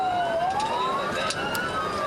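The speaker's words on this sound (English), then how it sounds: "These sirens would drive me nuts." Police car sirens wail during a high-speed pursuit near Long Beach, a continuous rising and falling tone sounding loud and close against steady road and engine noise.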